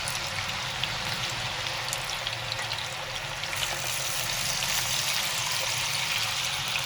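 Potato slices for crispy fried chips sizzle steadily in hot oil over a low flame, a dense, even crackling hiss that holds for the whole stretch without pauses.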